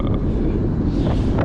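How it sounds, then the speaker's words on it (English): Strong outdoor wind roars steadily against the microphone, a dense low rumble with no pauses for about a second and a half, with a car drive in a Scat Pack Charger underway. "As you can see, it's windy as fuck outside."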